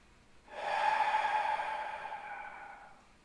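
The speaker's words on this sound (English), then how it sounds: "you're breathing hard enough to feel the vibration and you actually hear the breath" A single forceful breath pushed out hard through the throat, a loud rasping exhale lasting over two seconds before it trails off.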